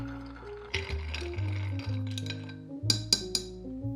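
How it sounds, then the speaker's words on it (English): Ice stirred in a mixing glass for a Manhattan cocktail, a few crisp glassy clinks near the end over a steady tonal backdrop. "Now it's time to add the ice and stir well to chill and dilute."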